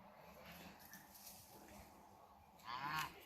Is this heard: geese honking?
yes